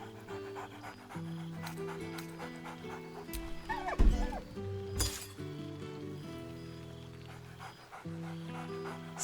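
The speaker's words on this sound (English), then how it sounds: "Scratch barks merrily in something like agreement." A dog pants and gives a short bark in the video game Baldur's Gate 3, close and moderately loud, over a steady musical score with a brief clinking burst.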